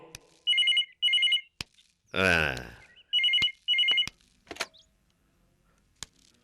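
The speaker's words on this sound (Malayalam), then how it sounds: "they phone" An old-style telephone bell rings in short double bursts, twice and then twice again, with a brief voice and clicks between the rings.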